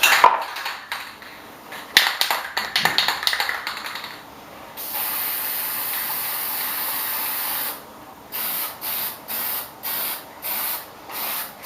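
A can of Rust-Oleum clear lacquer hisses out a long continuous spray onto a wooden napkin holder, then gives a run of short rhythmic bursts, after some rustling and handling noises.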